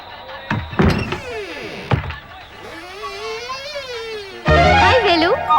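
A house door opens with a couple of dull thunks after a doorbell in a Tamil film scene, heard amid voices talking and a rising burst of background sound near the end.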